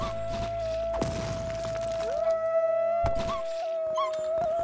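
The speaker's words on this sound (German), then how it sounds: "Da kannst du jaulen, wie du willst." A creature in Craftopia lets out drawn-out wailing howls amid sharp hits and clattering impacts, close and fairly loud.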